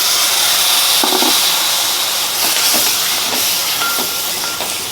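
A loud, steady hissing sizzle fills the clip as a little water is added to a hot pan of tomatoes for egg roast masala, with a few faint clinks on top.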